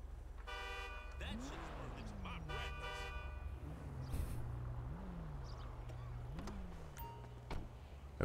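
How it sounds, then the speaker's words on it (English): Car horns honk repeatedly in the video game GTA amid street traffic, a few short bright toots near the start, then a swooping siren-like wail rising and falling over steady engine rumble. "Honk."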